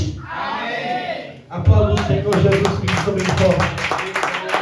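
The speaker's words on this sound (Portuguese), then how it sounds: "Aplauda o Senhor Jesus Cristo bem forte." Congregation in a church worship service claps loudly and continuously after a spoken prayer, the clapping starting abruptly partway through and carrying on with voices shouting praise over it.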